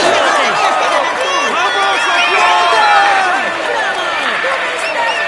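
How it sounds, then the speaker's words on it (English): A cheering, clapping crowd of roadside spectators at a Tour de France 2021 stage in the video game, a dense continuous roar with whistles and shouts, steady and loud throughout. "Come on, let's applaud him once more."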